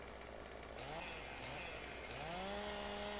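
A video-game chainsaw in Farming Simulator 2015 saws through a tree, a close whine that dips and then climbs into a steady revving tone, with no voices over it.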